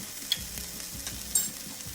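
A lentil soup with kale cooking down sizzles in a pot as tomatoes go in, a steady hissing fry with soft stirring scrapes, close and continuous, with no talking.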